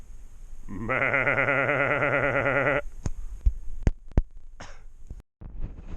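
A single long, wavering sheep bleat rings out close by, followed by a few sharp knocks and clicks in a quiet space.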